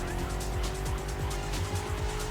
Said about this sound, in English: Brake, downshift, on the gas, downshift again.